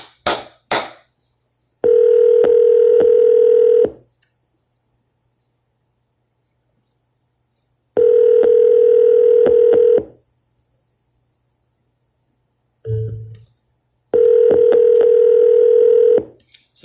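A telephone dial tone sounds in three steady bursts of about two seconds each, separated by silences, with brief clicks of dialing between them, loud and close with no talking.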